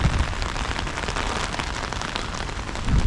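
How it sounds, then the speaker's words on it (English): Heavy rain pours down hard outdoors in a dense, steady hiss of drops striking surfaces, loud and unbroken, with no one speaking. "Damn, the rain is going down hard."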